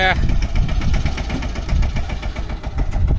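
A tractor engine chugs steadily at close range on a farm during well boring, a loud low rhythmic knocking that runs throughout with no pause.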